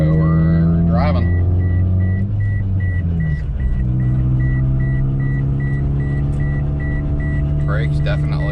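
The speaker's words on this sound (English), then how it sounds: "Exhaust is loud." A Toyota Yaris project car drives along with its engine droning and a loud exhaust rumbling steadily inside the cabin, a constant low hum with shifting pitch as people talk over it.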